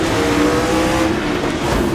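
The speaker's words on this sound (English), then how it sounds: "This engine has so much power in a short span of time." A Gilles Villeneuve-style F1 car's engine revs hard in Assetto Corsa, a loud, steady high-pitched racing-engine howl heard close up with no other voices.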